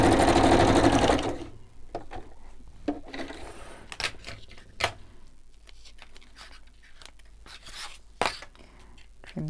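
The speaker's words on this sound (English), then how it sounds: "And now we're going to stitch all the way around the border." A sewing machine whirs loudly and steadily through a short run stitching around the border of book pages, then stops, leaving quiet handling clicks and small taps.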